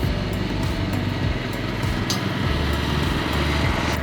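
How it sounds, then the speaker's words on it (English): Heavy mower cross-cutting a bentgrass golf putting green, a steady loud engine drone running unbroken throughout, close to the listener with no voices. "You always want to be careful about turning these heavy mowers around on the turf."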